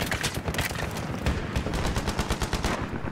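Rapid automatic gunfire from a BMP armored vehicle in a video game, a loud continuous stream of close bursts with heavy low thumps, no talking over it.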